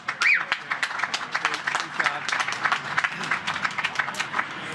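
An audience applauds at a hotel opening celebration, with a burst of clapping that continues through the few seconds while a voice speaks over it.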